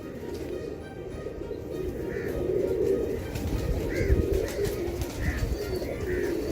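Several soft coos from light-coloured Heera Laal pigeons repeat at intervals over a dense, steady rumble of background noise, with no talking.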